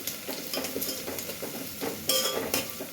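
Garlic and ginger fry in hot oil in a pan, a soft sizzle running under quiet spoon stirring and scraping, with a few sharper metal clinks near the end.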